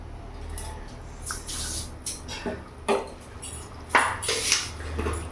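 Tamarind water being stirred into a pot of silver carp fish curry, wet sloshing and intermittent clinks of a utensil against the pot, fairly close and irregular.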